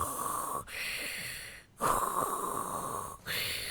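Loud, harsh snoring from a person with sleep apnea, three long rasping breaths separated by brief silent pauses, close and alone without talk.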